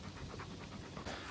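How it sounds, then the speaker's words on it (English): A dog pants rapidly and rhythmically close by, quick breathy puffs repeating steadily with no talking over them. "there goes the dog protecting everybody"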